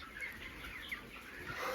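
Chickens cluck and murmur softly at close range, a steady low flock chatter with occasional brighter calls, no talking.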